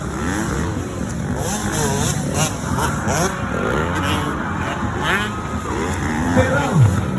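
Two Honda motorcycles race, their engines droning and rising in pitch at close to middle distance as a commentator talks loudly over them throughout.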